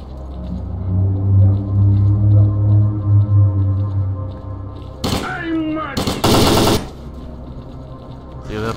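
Short bursts of automatic gunfire in STALKER: Call of Pripyat crack out close and loud. Two or three rapid volleys come after a stretch of low rumbling movement.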